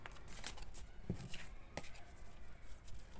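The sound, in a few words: shuffling tarot cards for advice card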